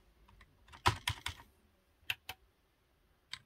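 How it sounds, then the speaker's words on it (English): Typing on a computer keyboard nearby: a short burst of sharp clicking keystrokes, then a few scattered isolated taps, with no talking. "I'm using a keyboard"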